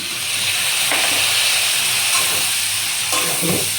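Papaya curry fries in a pan with turmeric and ground spices, giving a steady close sizzle and hiss broken by a few short stirring scrapes, with no talking.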